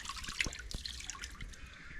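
Cold fresh water dripping and trickling after a head is rinsed outdoors on Koh Rong island, Cambodia, with close, irregular splashy drips over a faint wet background and no talking.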